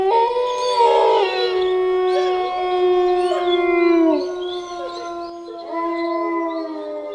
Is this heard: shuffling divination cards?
no